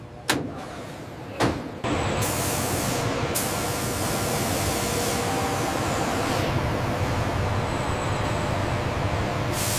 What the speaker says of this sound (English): Check the pressure on the HVLP gun.